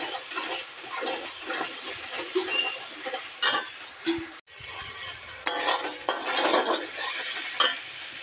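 Spices frying in a pan for an egg curry, with a utensil stirring and scraping in repeated strokes over a continuous sizzle, close and fairly loud.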